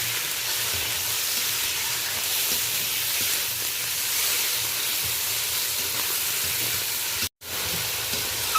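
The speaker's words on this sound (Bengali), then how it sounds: "পেঁয়াজ কাঁচা লঙ্কা টমেটোর সাথে চিংড়ি মাছটা বেশ ভালো করে নাড়াচাড়া করে নিলাম" Prawns stirred and fried with onion, green chili and tomato in a kadai, giving a constant dense sizzle with soft stirring scrapes and a brief dropout near the end.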